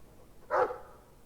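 A single short dog bark from the fantasy role-playing game Dragon Age II, one clear yelp at moderate volume against a quiet background.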